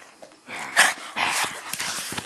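A dog whimpers and yips in short, broken bursts after a bath, close by and fairly loud, with scuffling movement between the cries.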